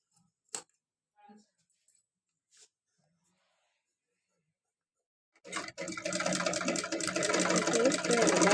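A sewing machine stitches dress fabric, running in a steady continuous whir after a few quiet clicks and handling noises; the motor stays close and loud for the last three seconds.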